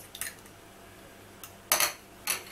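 Broccoli gratin ingredients and cheese being mixed in a dish, with a few soft scrapes and sharper clinks of a utensil against the dish, sparse and close in a quiet kitchen.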